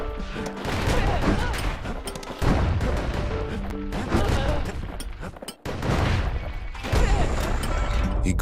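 Mortar shots and impacts against a swarm of rattletails in the video game Bastion, heavy repeated booms and crashes layered over dense, busy game sound effects with no voice.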